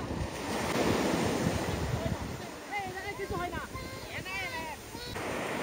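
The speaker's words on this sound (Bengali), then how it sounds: "বুঝি ঢেউ আবার আইতেছে" Ocean surf rolls and breaks steadily on the beach at Juno Beach, Florida, with wind buffeting the microphone, while people talk over the wash of the waves.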